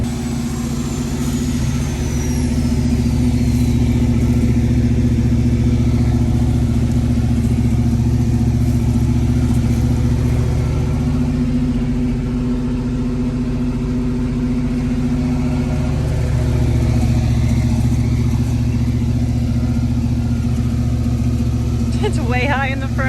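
A diesel-swapped Chevy Luv truck engine idles steadily and loudly close by, a constant low rumble that holds for the full duration with only mild swells.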